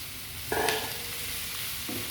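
Prawns drop into hot frying sambal with a sudden hiss. The sound then settles into a steady, close sizzle that carries on to the end.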